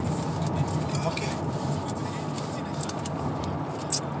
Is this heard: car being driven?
yes